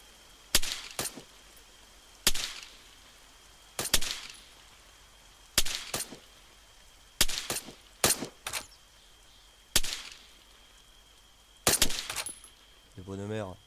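Video game gunfire arrives in sharp, separate bursts, single shots and short volleys spaced a second or two apart over a quiet background.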